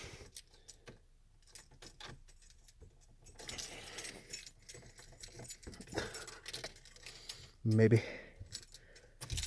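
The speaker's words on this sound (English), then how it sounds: "Grab the keys real quick if I can get them" A set of keys jangles briefly and loudly as they are snatched up during a C4 game session, a short metallic rattle near the end amid scattered room noise and a few spoken words.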